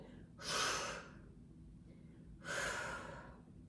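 Two slow, audible breaths during a mat Pilates exercise, each a broad airy rush about half a second long, spaced roughly two seconds apart with quiet between them.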